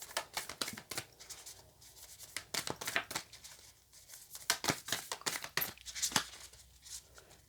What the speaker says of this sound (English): this is quite a big deck for my small hands to shuffle